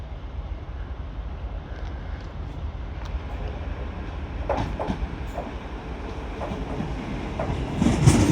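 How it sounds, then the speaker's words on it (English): An LNER Azuma train pulls out of Doncaster station on the East Coast Main Line, a low steady rail rumble with faint clicks of the wheels building slightly toward the end. "Departing now is your 1348 LNER Azuma service from Leeds to London King's Cross."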